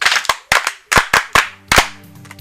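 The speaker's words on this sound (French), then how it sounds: "Applaudissez pour elle." A class claps for a girl in a village setting, a few sharp separate bursts of clapping in an uneven rhythm, loud and close, with a low hum under the final burst and no talking.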